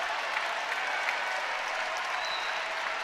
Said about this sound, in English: Some added noise from the crowd here at Devaney.